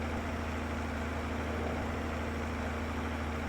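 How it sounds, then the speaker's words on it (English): A Deutz-Fahr tractor in Farming Simulator 22 idles with a steady low engine drone and a constant hum, sitting alone at a moderate, unchanging level with no talk. "There's our nice new tractor."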